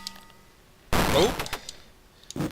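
Gunfire in the Rampage video game, a loud burst of rapid shots followed by a few scattered bangs, with a short second burst near the end.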